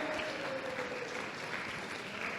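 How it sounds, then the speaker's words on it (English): Audience applause at the Texas Tennis Museum and Hall of Fame annual banquet, a steady roomful of clapping that carries through without pause. "We can keep that applause going"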